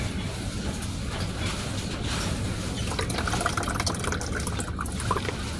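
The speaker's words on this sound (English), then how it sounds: "try to pour it out, it'll cloud that water up easily" Water clouded with fine IC chip sediment, from hard drive material recovery, is poured steadily out of a container, a continuous close splashing trickle with no talk.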